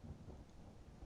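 Brief low rumble of a thunderstorm outside, a dense muffled roar with rain-like texture, distant and fairly quiet, no voices.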